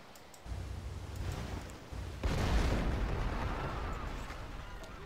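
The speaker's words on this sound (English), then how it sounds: "Come down here and begin bombarding this city" Artillery bombarding a city in the Civilization V strategy game, a muffled boom followed by a louder blast and rumbling debris that fades slowly, with faint clicks early on.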